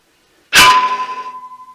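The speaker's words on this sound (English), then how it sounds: "Flip the locks down on both sides." A single sharp metallic clang rings out close by as a tractor quick hitch's metal locks are flipped down, then decays into a lingering, wavering tone.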